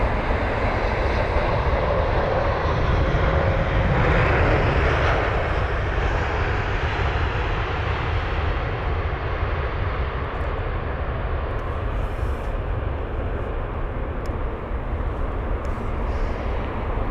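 An Emirates airliner on flight EK31 takes off from runway 27 right at Heathrow with a loud, steady jet-engine roar that holds for the whole stretch and eases only slightly toward the end, with no talking.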